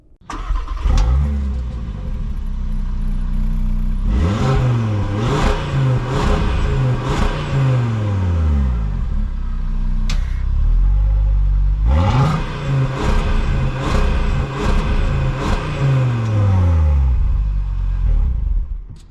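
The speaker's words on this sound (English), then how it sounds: "this car's exhaust system does make a menacing sound" A 2023 Audi RS3 sedan revs hard twice, its exhaust rising to a loud, growling roar and falling back to a rumbling idle between the bursts.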